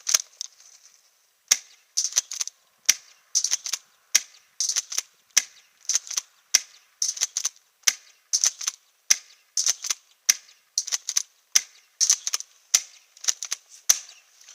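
Franchi SAS12 spring airsoft pump shotgun firing BB shot at a metal plate, a long series of sharp, evenly spaced cracks and metallic ticks, each shot followed by a brief rattle.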